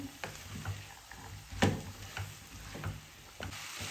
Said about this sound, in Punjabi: ਮਟਰ ਨੂੰ ਚੰਗੀ ਤਰ੍ਹਾਂ ਮਿਕਸ ਕਰਕੇ ਆਪਾਂ 2-3 ਮਿੰਟ ਲਈ ਭੁੰਨ ਲਵਾਂਗੇ